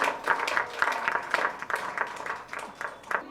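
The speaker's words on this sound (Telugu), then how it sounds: "అందరూ క్లాప్ చేయండి." An audience claps for a children's dance performance at a Baalotsavam event in an apartment complex, with rhythmic, moderately loud hand-clapping that stays fairly steady for a few seconds.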